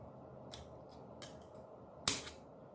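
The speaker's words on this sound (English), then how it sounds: "when you push down on this, you should hear a little click" Fork seals on a 2000 CR500 fork are pressed into place, giving a few faint ticks and then one sharp, close click with no talking.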